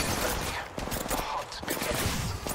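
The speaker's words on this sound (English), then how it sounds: "Opening fire." Gunfire in the video game Apex Legends, a dense fusillade of rapid shots and bursts that fills the whole stretch loudly, with game sounds mixed in.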